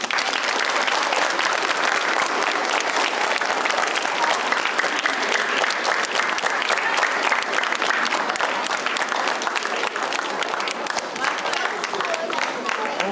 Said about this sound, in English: can we all give Mr. Morris a round of applause?